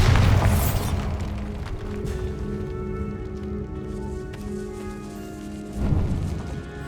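A Bombarda spell explosion in the Hogwarts Legacy video game, heard as a loud, deep booming blast right at the start that fades into a rumbling, crackling ambience.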